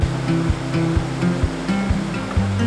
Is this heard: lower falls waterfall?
yes